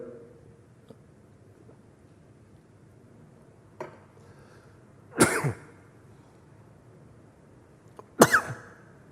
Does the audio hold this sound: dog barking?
no